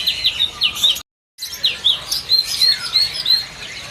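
A caged cucak cungkok songbird at a bird shop sings bright, repeated high chirps and whistled notes close by. A brief silent gap interrupts the lively phrases.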